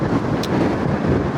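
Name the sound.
strong wind blowing on the microphone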